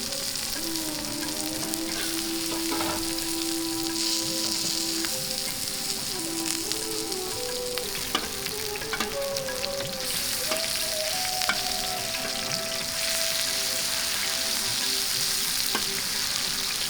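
Mutton and chicken galouti kebabs fry on a griddle in a continuous loud, even sizzle, with a faint tonal hum wandering in the background.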